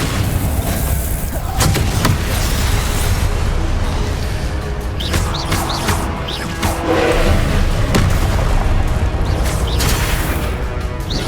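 Confringo blasting spells from Hogwarts Legacy go off as loud, repeated booming explosions amid constant combat noise, with thuds and crashes layered throughout and no pauses.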